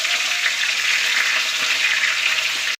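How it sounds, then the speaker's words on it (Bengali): Tilapia fish frying in a pan of oil, a steady dense crackling sizzle that stays loud and even from start to finish with no voices. "তেলাপিয়া মাছ এনেছিলাম সে তেলাপিয়া মাছটা ভাজছি"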